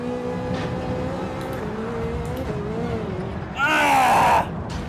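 Ferrari race car engine in Gran Turismo 7, a steady droning tone that shifts pitch as the car accelerates, rising into a brief louder, higher whine near the end, with a voice over it.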